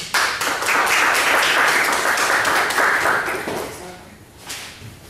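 An audience at the official opening of WEBI Germany at the University of Leipzig bursts into loud, dense clapping that fades away after about four seconds, followed by a brief voice.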